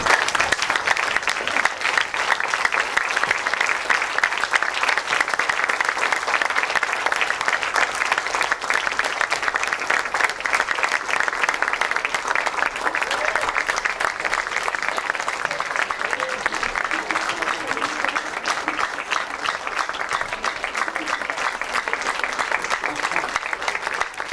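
A conference audience gives sustained, loud applause at the closing of the event, a thick continuous roar of many hands clapping that holds steady throughout with scattered voices mixed in.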